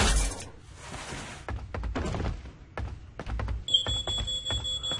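A fire alarm in a house starts shrilling partway through with a steady high electronic tone, while knocks, thuds and footsteps sound close by.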